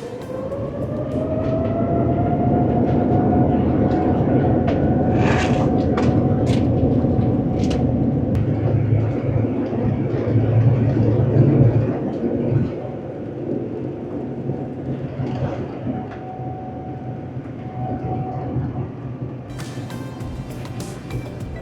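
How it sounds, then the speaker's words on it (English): A steady low rumble of heavy engines runs for a long stretch, with a faint whining tone, occasional clicks and thumps, then slowly quietens. "we are ready to push back, taxi, and take off for Paris"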